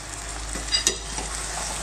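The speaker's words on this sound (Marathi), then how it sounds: "एकदा आपण ढवळून घेऊया।" Moong dal halwa is stirred in ghee in a pan: a soft, steady sizzle of frying with a couple of brief scraping stir strokes, close and fairly quiet, with no talking.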